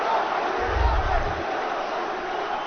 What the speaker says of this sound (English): Crowd chanting for Islam Makhachev.